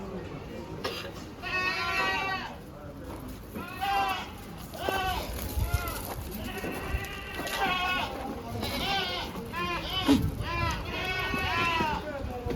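Goats bleat repeatedly at a Bakrid goat and sheep distribution center, many loud, wavering calls overlapping one after another from several animals nearby, amid a busy background.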